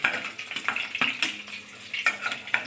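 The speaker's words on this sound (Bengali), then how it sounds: "বেগুনগুলো আধা আধা করে ভেজে নেব, ঢেকে ঢেকে ভেজে নেব নরম" Halved brinjals fry in a covered pan, with an uneven sizzle and frequent metallic scrapes and clinks of a spatula moving the pieces, close and fairly loud.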